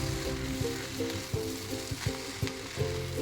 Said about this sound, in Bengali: ডিমের ভুজিয়া নুডলসের মধ্যে খুব ভালো করে মিশিয়ে দিচ্ছি।